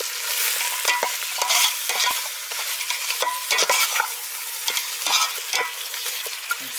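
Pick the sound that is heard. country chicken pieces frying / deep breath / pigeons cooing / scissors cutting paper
country chicken pieces frying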